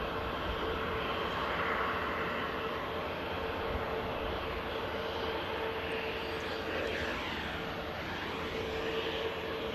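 At Manchester Airport, a Helvetic Embraer 190 jet departing for Zurich gives off a continuous moderate engine rumble with a faint whining tone, steady and without voices.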